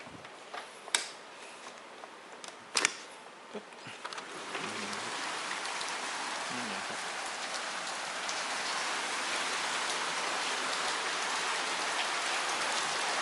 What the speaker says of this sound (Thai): แต่ตอนนี้ฝนตกครับ